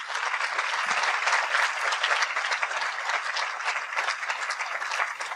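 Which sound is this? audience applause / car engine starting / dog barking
audience applause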